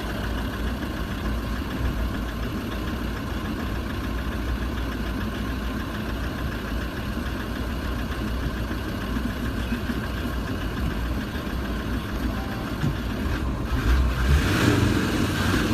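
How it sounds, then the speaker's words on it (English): A car engine idles steadily for a long stretch, close and continuous, with a brief rise in revs near the end and no talking. "I can rev the engine whenever I want, me."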